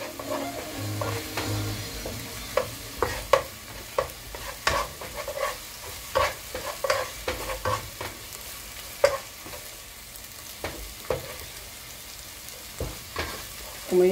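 Garlic and onion frying in a small drop of oil in a pan for a cauliflower gratin with béchamel, a steady sizzle punctuated by repeated sharp stirring scrapes and clicks throughout, with no talking.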